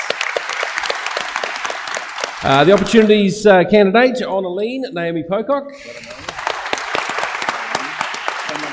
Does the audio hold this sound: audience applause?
yes